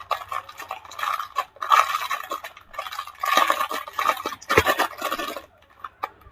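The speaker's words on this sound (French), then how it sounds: "Excusez-moi pour le bruit du plastique." Plastic packaging from an online order crinkling and rustling in irregular bursts while items are unpacked by hand, close and moderately loud, with short quiet gaps between handlings.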